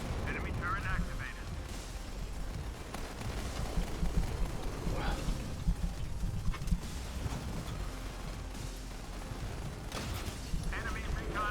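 Gunfire and battle noise in the mobile shooter game Modern Combat 5, a dense continuous wash of shots and rumbling explosions, with players talking over it throughout.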